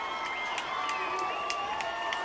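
Crowd noise from spectators at a high school lacrosse state championship game at an outdoor field, a steady murmur with scattered shouts and cheers throughout.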